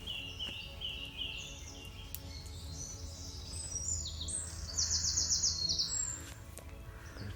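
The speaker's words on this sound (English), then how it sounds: "Got a chaffinch up there." Birdsong fills a wild Norfolk woodland at first light, with a chaffinch among a dawn chorus; bright, repeated trilling phrases ring out at moderate distance over a steady background of other birds, with no voices.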